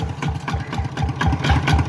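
A walk-behind tractor fitted with car tyres idles close by, its small engine chugging in a fast, even pulse for the whole stretch.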